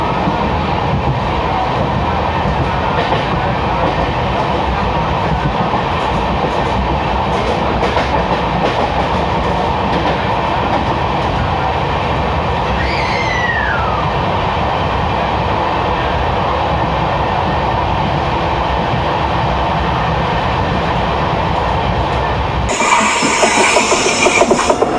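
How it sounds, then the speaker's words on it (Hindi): Bihar Sampark Kranti Express train running between Darbhanga and New Delhi, a steady continuous rumble of wheels on rails with rhythmic clatter throughout, briefly louder and brighter near the end. "संपर्क क्रांति एक्सप्रेस"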